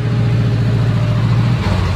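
A car engine idles with its exhaust burbling close by, a steady low throbbing drone that shifts slightly in pitch near the end.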